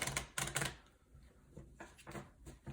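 A deck of cards for the game Deck of Wonders being shuffled by hand, a run of crisp riffling bursts with short pauses between them, close and fairly loud.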